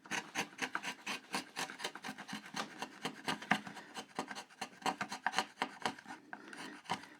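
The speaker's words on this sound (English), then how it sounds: "we're going to keep working with the chisel this way up." A chisel, bevel down, pares a wooden workpiece along a gauge line to cut a rebate with hand tools, making quick rhythmic scraping and rasping strokes, close and fairly quiet, with no talking.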